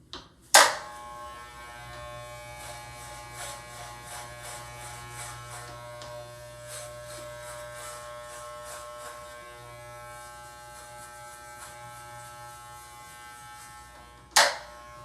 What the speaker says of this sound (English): So I'm going to use clipper number 2 for my clipper.